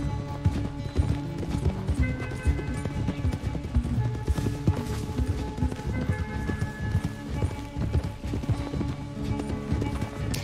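Horses gallop in the video game Red Dead Redemption 2, a loud, fast, continuous clip-clop of hooves with a faint voice now and then underneath.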